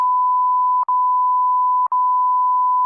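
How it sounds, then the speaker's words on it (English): A steady electronic beep tone holds throughout, with two brief dips where the tone cuts out for an instant, clean and loud with no talking. "Put some beeps in this one."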